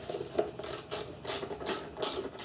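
A hand ratchet turns an extractor socket on fasteners of a Subaru 2.5L boxer engine under rebuild, giving close, quick clicking bursts in a steady back-and-forth rhythm, about five strokes with no voices.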